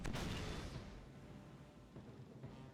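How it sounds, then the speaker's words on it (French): A warship opens cannon fire in the pirate video game Age of Pirates: a fairly quiet boom at the start fades into a long, low rumbling tail, with no speech. "Bâtiment de guerre qui ouvre le feu."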